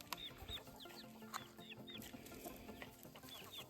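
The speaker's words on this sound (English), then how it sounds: "I have a very cute chicken in here. I'm afraid it's a rooster, but it is a barred rock with puffy cheeks." A barred rock rooster with puffy cheeks clucks in a barn, soft short clucks and chirpy notes scattered at moderate distance over a faint busy background.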